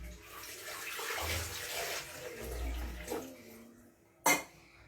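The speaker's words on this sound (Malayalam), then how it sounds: "അതിൻ്റെ അകത്തേക്ക് വാട്ടർ ഒഴിക്കുവാണ്" Water poured into a blender jar while making a lime and beetroot juice, a soft continuous pouring and splashing over a few seconds, fairly quiet, ending with a brief sharp clink.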